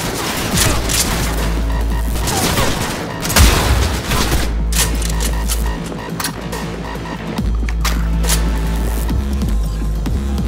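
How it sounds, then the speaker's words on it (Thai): Iconic weapon being test-fired in Cyberpunk 2077, loud booming gunshots in bursts with heavy low-end thumps and crackling echoes, several shots clustered around the middle and spaced reports after. "เอาล่ะต่อไปก็มาทดสอบปืนกันได้เลยครับ"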